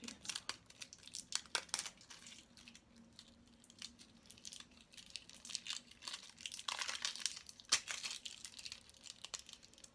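Close crinkling and tearing of thin plastic foil wrapped around a new lip oil product, with irregular rustling bursts that rise and fall.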